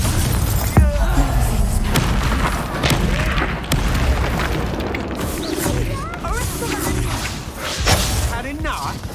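Confringo blasting curse explosions in Hogwarts Legacy, loud booming blasts with crashing debris and whooshes layered over game music and a character voice throughout.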